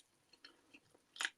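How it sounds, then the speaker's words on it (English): Someone takes a bite of a homemade meatball and chews, with soft mouth sounds ending in one louder crunchy bite, close and quiet. "let's have a little taste of one of the meatballs"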